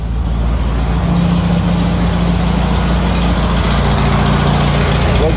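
A Volkswagen engine idles steadily at close range, a continuous low rumble with a faint hum that holds evenly throughout, no voices over it.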